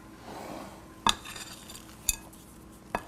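Batter being folded by hand to work in egg whites for cookies, with a spoon or spatula clinking sharply against the bowl three times at roughly one-second intervals over a soft, quiet background.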